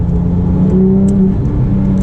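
A Porsche 997 GT3 engine, apparently fitted with an aftermarket exhaust, holds a loud, steady, close-up drone with a slight rise in revs across two seconds.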